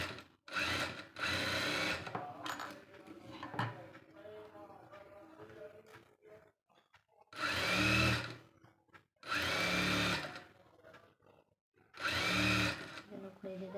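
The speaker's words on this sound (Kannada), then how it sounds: "ಸ್ಟಿಚ್ ಹಾಕ್ತಿದ್ದೀನಿ." Sewing machine stitching a blouse, running in several loud, close bursts of steady whirring lasting one to two seconds each, separated by pauses with someone talking softly.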